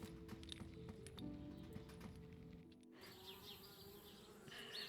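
Bees in the video game Anna's Quest buzz continuously in a droning swarm, with soft clopping steps underneath and a shift in the background partway through.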